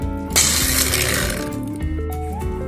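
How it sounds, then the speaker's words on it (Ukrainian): A blender's motorized blade whirs and rattles loudly for a couple of seconds, grinding and chopping prunes and nuts with a steady mechanical churn. "горіхи нарізати лінуюсь, тому буду збивати блендером"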